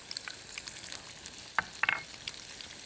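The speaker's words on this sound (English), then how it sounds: "let's go ahead and put the shrimp into the pan already, and they are going to cook up really quickly" Shrimp dropped into a pan with minced garlic fry with a faint, soft sizzle and a few small spits and pops, quiet and brief, with no voices.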